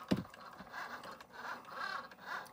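A Cricut Joy cutting machine running with a foil quill on Yupo paper gives a quiet, continuous scratchy whir with soft mechanical scraping and small shifts in pitch, plus one brief knock near the start, and no talking.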